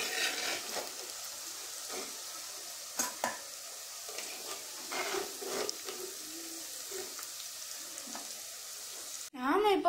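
Vegetables frying and being stirred in oil in a pan, a soft continuous sizzle broken by scraping stirs and a few clinks, with a louder knock right at the end.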